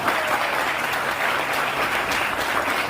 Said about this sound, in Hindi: दोस्तों ताली बजाओ अपने फ्लैक्स के लिए